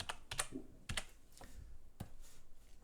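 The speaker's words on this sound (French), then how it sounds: "Donc j'appuie sur Entrée, je tape static." Light, sparse clicks on a computer keyboard, a few quick keystrokes followed by single taps, close up and quiet with no talking.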